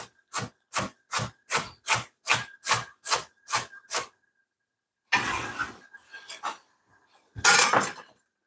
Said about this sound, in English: the harder part, I'm gonna julienne them